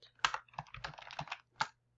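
Keys on a computer keyboard tap in a short, uneven burst of several close, crisp strokes with brief pauses, nothing else around them.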